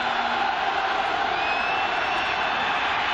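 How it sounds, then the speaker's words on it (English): A football stadium crowd at the Tennessee vs Nebraska Fiesta Bowl swells into a loud, continuous roar, a broad steady wash of cheering with no breaks. "Crowd gets loud."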